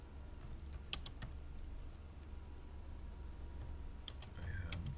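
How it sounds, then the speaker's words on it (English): Quiet clicking on a computer keyboard, a few scattered taps, then a short quick burst of keystrokes near the end, faint and close. "I'm going to type this in all small letters."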